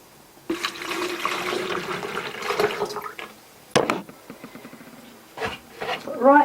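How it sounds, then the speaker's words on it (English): Water is poured into a flower vase for a hospital bouquet, a close, steady rushing splash that stops abruptly, followed by a few clinks and brief handling noises. "Put the water in."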